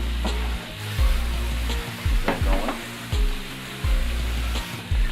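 Red onion and minced garlic sautéing in a pan give a steady close-up sizzle, broken by several sharp stirring scrapes and clinks spaced a second or so apart, with no voices.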